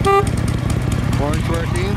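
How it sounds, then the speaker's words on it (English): Horn of a 2007 Harley-Davidson Road King 103-inch motorcycle: one short, bright honk at the start over the idling engine, followed by someone speaking over the engine rumble. "Horn's working."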